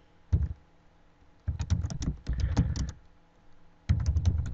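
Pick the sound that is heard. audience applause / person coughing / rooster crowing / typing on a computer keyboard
typing on a computer keyboard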